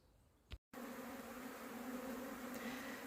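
A dense, steady buzzing of a bee swarm on tree branches, close and continuous after a brief cut near the start.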